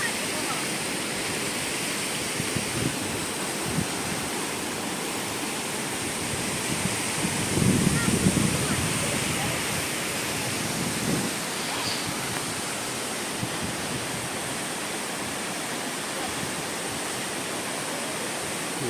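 Kynrem waterfall in Meghalaya, India, among the tallest in the country, roars as a steady, dense wash of falling water that stays constant throughout, with faint human voices briefly murmuring partway through.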